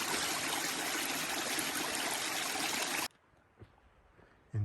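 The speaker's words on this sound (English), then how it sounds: "And all the water coming down the trail." Rain runoff rushes down a muddy hiking trail as a dense, continuous splashing flow that stops abruptly about three seconds in, leaving a quiet outdoor hush with a couple of faint knocks.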